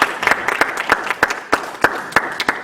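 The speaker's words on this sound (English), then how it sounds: "go ahead and give them a round of applause" Audience applause rings out in a debate hall, scattered, moderately close hand claps from a modest crowd, steady throughout the brief burst.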